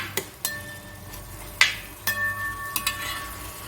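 Ingredients for a chicken and jackfruit seed roast sautéing in a pan, with a quiet steady sizzle broken by several sharp clinks and scrapes of a spoon against the pan.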